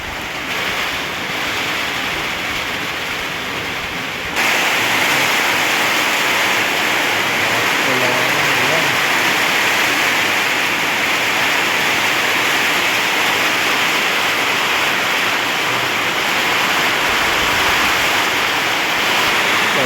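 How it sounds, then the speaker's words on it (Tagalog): Strong mountain wind roars steadily with a rushing hiss of heavy rain, loud and constant throughout, briefly quieter at the start before surging. "Lakas pa ng hangin."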